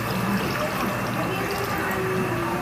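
Two glasses of water pour steadily into a pot of chicken for home-cooked tinolang manok in a kitchen, a continuous close splashing and rushing with faint voices in the background.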